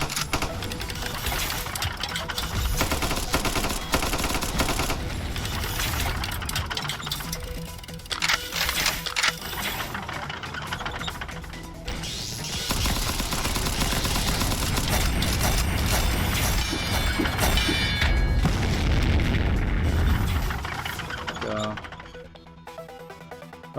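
Rapid, rattling gunfire aimed at mechs in the video game Cavalry Girls, a dense continuous mechanical clatter running loud for most of the stretch before easing off near the end, with voices mixed in.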